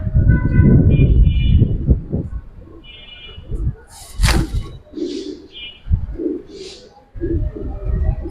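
Giribaz pigeons cooing in soft, repeated low calls at close range, broken by brief wing flutters and shuffling, with a voice talking over parts of it.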